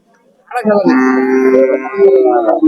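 A Holstein Friesian cow moos loudly and close by in one long, drawn-out call at a cattle market in Dhanbari, with faint crowd noise in the background.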